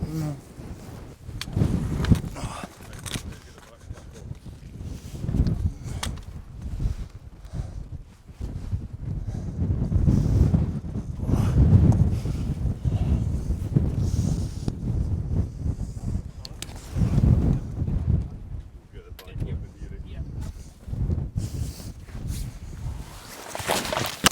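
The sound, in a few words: wind on a hilltop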